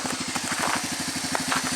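A four-wheeler engine idles after a cold start in 20-degree weather, having been thawed in a shop, with a fast, even, chugging pulse that stays steady and fairly loud up close.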